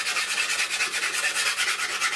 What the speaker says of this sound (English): what we're going to use is quite a coarse sanding stick